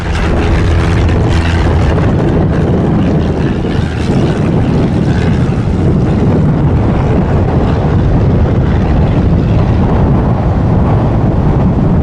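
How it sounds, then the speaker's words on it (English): A Piper PA-18 Super Cub strains to take off in strong winds, its propeller engine a steady, loud drone buried in heavy, continuous wind roar and buffeting across the whole stretch, with no talk. "This Piper PA-18 Super Cub struggling to take off in strong winds."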